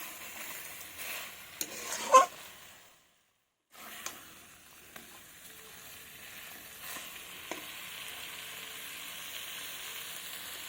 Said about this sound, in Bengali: এবার ভালোভাবে আরও কষাবো আস্তে আস্তে করে